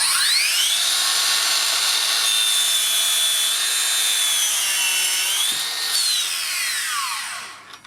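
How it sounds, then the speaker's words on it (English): A Makita LS002G 40V 216mm mitre saw cross-cuts a 293mm-wide, 48mm-thick length of 12x2 timber, its high, whining blade holding steady through the cut with a brief pitch shift near the end before spinning down. "This is going to test the full cross-cut capacity of this Mitre saw."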